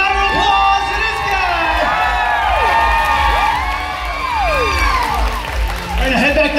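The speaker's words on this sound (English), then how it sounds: "Give a round of applause to this" Crowd cheering and applauding at a convention cosplay contest, loud continuous clapping with whoops and shouts, and bright whistle-like squeals sweeping up and down over the roar.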